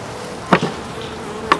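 Bees around a hive being fitted with an inner cover give two short buzzing passes about a second apart, close to the microphone, over a quiet background.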